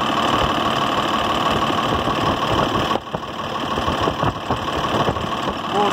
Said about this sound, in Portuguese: Estamos aqui funcionando no motor Cummins e SL400.